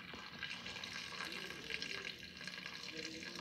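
Water runs from a tap or is poured into a multi-cooker pot while cooking a wheat and cheese stew, a soft steady splashing trickle at low level.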